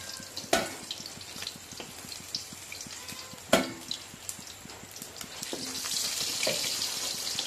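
Katla fish fries in hot oil in a home kitchen, making a faint, steady sizzle broken by a couple of sharp clattering knocks, with the hiss swelling slightly toward the end.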